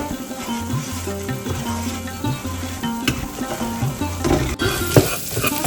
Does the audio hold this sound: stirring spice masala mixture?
yes